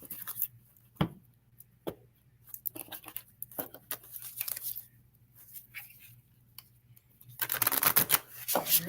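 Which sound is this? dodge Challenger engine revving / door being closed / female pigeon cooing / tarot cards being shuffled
tarot cards being shuffled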